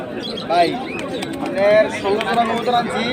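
Pigeons cooing and calling at a busy Bangladeshi pigeon market, several soft warbling coos rising and falling close by, with people talking in the background throughout.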